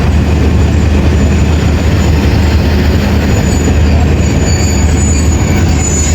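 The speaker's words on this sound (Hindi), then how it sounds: "कल 107 आपको लेके गया था ये लोकोमोटिव, और आज वही रेक आ रहा है 102" A passenger train rake hauled by a locomotive rolls past on the line from Rawalpindi to Lahore, a loud, close, continuous rumble of wheels on track with faint squealing, no voices.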